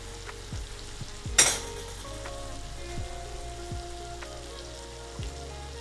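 Shrimp and noodles for a quick shrimp scampi sizzling in a pan, with a steady close crackle and a few sharp utensil knocks, one louder clatter early on.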